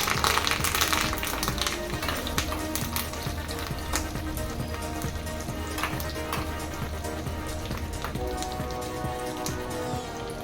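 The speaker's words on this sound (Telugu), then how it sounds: "అలాగే కారానికి తగినట్టు ఎండుమిర్చి కరివేపాకు కూడా వేసి వేయించుకుంటున్నాను" Dried red chilies and curry leaves fry in hot oil with mustard seeds and cumin for a tempering, giving a steady, dense crackling sizzle that runs close and unbroken throughout with no talk.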